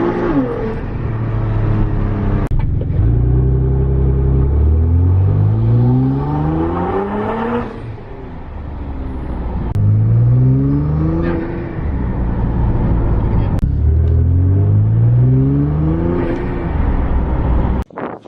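Nissan GT-R with a cold air intake revving repeatedly through the gears, loud and close, each pull climbing in pitch before dropping off, about four rising runs with brief pauses between.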